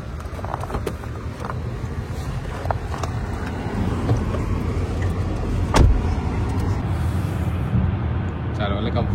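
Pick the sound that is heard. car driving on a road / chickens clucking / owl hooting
car driving on a road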